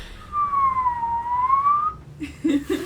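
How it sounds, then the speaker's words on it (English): A slide whistle plays a single gliding tone that dips and then rises again over about a second and a half. Some short voiced sounds and clatter follow it. "What you do get is a slide whistle."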